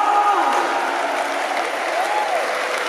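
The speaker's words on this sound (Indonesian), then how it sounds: "Kasih dulu tepuk tangan yang meriah untuk Ki Ageng Slamet." Lively audience applause at an Indonesian community gathering with kendang music, continuous even clapping with a faint tone running underneath.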